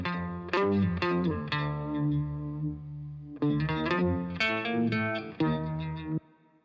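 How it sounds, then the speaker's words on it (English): Lead guitar run through a pitch-shifter adding an octave-down layer, with distortion and effects; two phrases of plucked notes with a thick low doubling, a pause in between, ringing with reverb before stopping abruptly. "What I ended up doing on this was using pitch shifting for our lead guitar to add this octave down effect to it."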